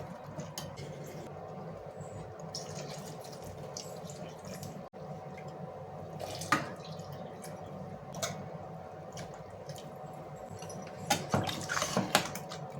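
Water trickles and drips steadily into a cooking pot for vegetable kurma, a soft continuous splashing with a few louder spatters near the end.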